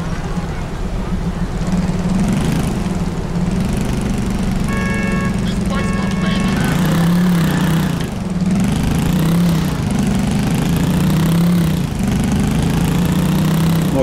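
A noisy motorcycle engine in the video game GTA 4 drones steadily and loudly throughout, rising and falling in pitch as it revs, with talk over it.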